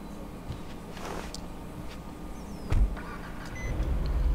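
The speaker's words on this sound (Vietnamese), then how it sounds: "Đó, tiếng lúc mà nổ máy lên đó." Car engine starting in GTA 5, a soft electronic beep then a brief thump as the motor catches and settles into a low idle, heard amid faint background game ambience.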